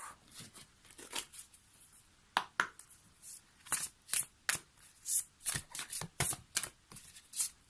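Oracle cards being shuffled by hand for a card reading, a close series of quick riffling bursts in irregular clusters, soft and without talk.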